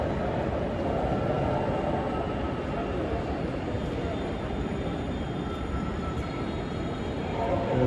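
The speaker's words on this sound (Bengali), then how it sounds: "ট্রেন ছেড়ে যাওয়ার পরে" A Dhaka metro rail train pulls away from the station with a steady rumble and hum that holds throughout under a noisy platform background.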